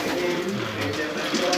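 Ornamental pigeons coo softly and repeatedly in a busy loft, low murmuring calls overlapping with other birds and background noise.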